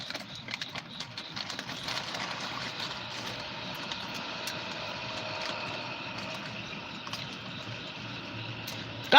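Norfolk Southern freight train passing in Beaver Falls, Pennsylvania, carrying tractors, a steady broad rumble and rattle of rolling cars that holds evenly for the whole stretch, fairly close and without talk.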